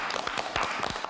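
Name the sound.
applause, people clapping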